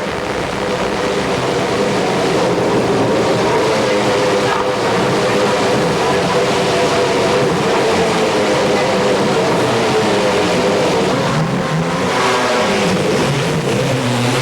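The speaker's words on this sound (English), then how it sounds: "Back they go to green flag racing, and they're really getting a fight through the corners, getting it up on 2 wheels" Racing quads and motorbikes at the Orange County Fair Speedway Thunderdome in 1997 produce a continuous, loud engine roar that rises and falls as the machines fight through the corners, with no pauses.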